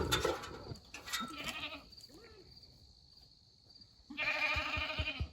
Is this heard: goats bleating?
yes